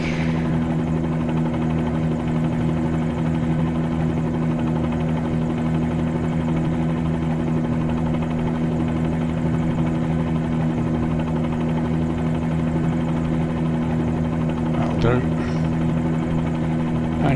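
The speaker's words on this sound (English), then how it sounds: "That's what they call a hover taxi, I think." Helicopter in Microsoft Flight Simulator 2020 hover taxiing near an airfield, a loud steady droning rotor and engine hum holding constant throughout, with a voice talking over it.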